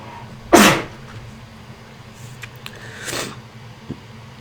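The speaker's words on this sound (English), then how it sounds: "Excuse me, I'm about to sneeze." A single sharp sneeze bursts out close to the mic, loud and brief, followed by quieter room shuffles and a faint exhale in a quiet indoor space.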